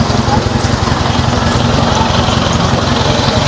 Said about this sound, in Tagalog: Traffic na tayo dito.